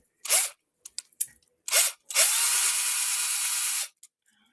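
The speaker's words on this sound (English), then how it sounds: "Oh, my drill's dying." A cordless drill with a weak battery drills into a die-cast toy car, running in short whirring bursts and then one longer steady run, with sharp clicks between the bursts.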